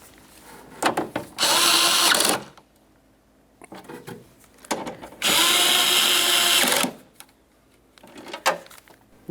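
Power drill snugging the window regulator mounting bolts inside the door of a 2006-2012 Toyota RAV4, two loud sustained whirring bursts of about a second each, separated by quieter clicks and handling knocks.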